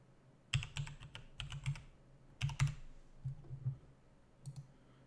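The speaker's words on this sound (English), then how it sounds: "it's reading all of the key presses I do" A computer keyboard is typed on close by, with quick clusters of crisp key presses and clicks separated by brief pauses, fairly quiet overall.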